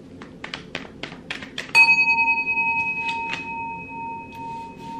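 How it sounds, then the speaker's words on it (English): A singing bell is struck once after a few light taps, ringing out loud and close with a pure sustained tone that pulses gently as it slowly fades. "And it hit the singing bell."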